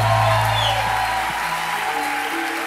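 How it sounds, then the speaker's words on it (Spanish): Audience applause at a Christian music concert, a steady, dense wash of clapping that holds evenly through the clip with faint tonal sound underneath. "Apláudele fuerte a él."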